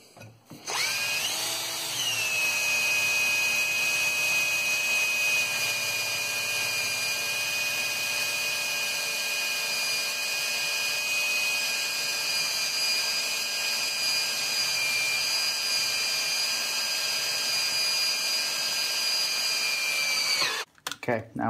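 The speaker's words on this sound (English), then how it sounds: "Let's continue to drill." A power drill bores into a broken storm door handle clamped in a vise, spinning up quickly and holding a steady high whine for about twenty seconds before stopping abruptly.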